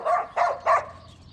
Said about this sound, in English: The dog's mental.